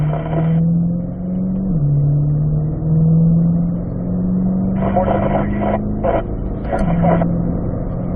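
Cars accelerate in fifth gear down a track straightaway during a driving school session, with a loud, steady engine hum whose pitch drops at each shift. Bursts of rushing wind noise break in now and then.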